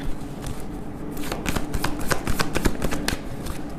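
Tarot cards are shuffled by hand in a quick run of crisp riffling flicks, close and fairly loud, with no talking.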